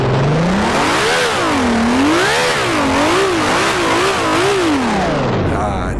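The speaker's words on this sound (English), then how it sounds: "Nice V12 engine." The V12 engine of a Honda RA300 racing car in the game Grand Prix Legends revs up and down repeatedly, its whining pitch rising and falling through gear changes, close and sustained throughout.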